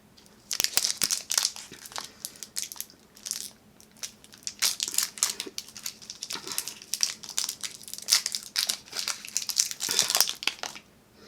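A Japanese KitKat wrapper crinkles and crackles as it is opened, close and fairly quiet, in bursts of sharp crumpling that come and go for several seconds.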